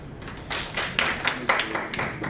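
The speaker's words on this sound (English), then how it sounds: "Let's clap for ourselves." Participants at a national policy dialogue on financial inclusion clap for themselves at the close, a sparse patter that swells into several uneven bursts of hand claps from a modest group nearby.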